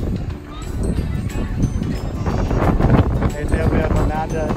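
Strong wind buffets the microphone at a rowing regatta dock, a loud continuous roar with gusts, under people talking.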